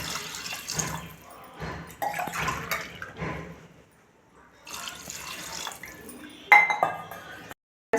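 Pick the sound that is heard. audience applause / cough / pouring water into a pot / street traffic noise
pouring water into a pot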